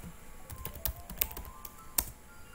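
Someone types the ipconfig command on a computer keyboard during a Cisco Packet Tracer networking lab, giving a sparse run of light key taps with a few sharper presses, close and alone.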